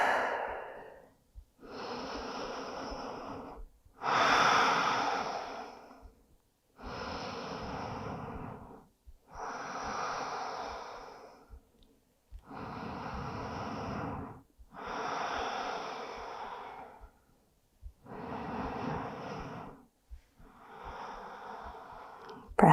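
Slow, deep breaths during a yoga child's-style rest pose, about nine long even inhale-exhale cycles, close and airy with brief pauses between, no talking.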